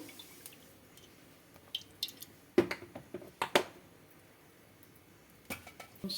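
Dried red chillies fry in about five spoons of hot oil, giving scattered close pops and crackles in small bursts separated by quiet gaps, with no talking.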